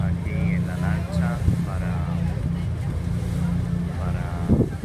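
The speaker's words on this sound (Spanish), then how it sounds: "Estamos aquí en la lancha" A motor launch ferry carrying passengers to Culebra, Puerto Rico, its steady low engine drone and wind rumble running throughout, with people speaking over it.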